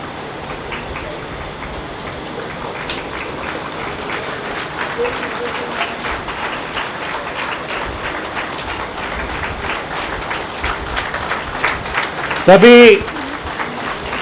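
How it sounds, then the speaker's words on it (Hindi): Audience at a yoga sadhana event honoring Harakhchand Sawla gives a standing ovation, with dense, loud clapping that holds steady throughout and swells briefly near the end, a voice heard faintly under it. "श्रोताओं को नम्र विनंती है कि वे खड़े होकर स्टैंडिंग ओवेशन दे, जोरदार तालियां बजाकर हरकचंद सावला जी का सम्मान करें"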